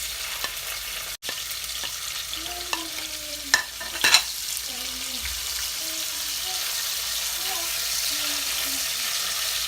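Onions and garlic sizzle in a hot pan, a steady close hiss broken by a few sharp knocks and utensil scrapes, with faint voices murmuring underneath.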